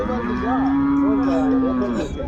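A single long, deep moo from a bull at a cattle market in Punganur, steady and close, lasting about two seconds.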